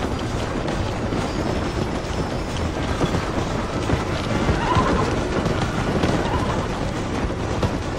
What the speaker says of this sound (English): Run, horse, run.